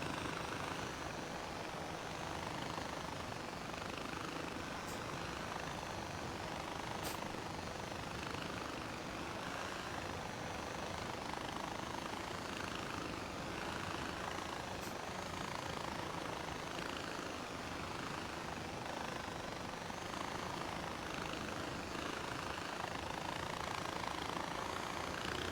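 Helicopter lifting off in Far Cry 4, a steady rotor and engine roar that stays constant and fairly faint throughout, with no talking.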